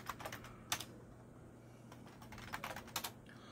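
A password is typed on a computer keyboard during an OpenBSD 6.7 install, with soft, quiet key clicks in short irregular bursts and pauses between them.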